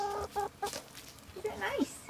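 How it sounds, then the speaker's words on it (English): Backyard chickens that have escaped their pen in a garden cluck in short bursts with a rising squawk near the end, fairly close, while a person talks to them. "Come on, all the chickens escaped."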